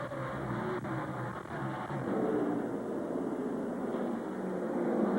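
NASCAR Craftsman trucks at the 2001 NetZero 250, engines turning about 9,000 RPM, roar past as a steady, fairly distant drone that builds slightly toward the end, with no talking.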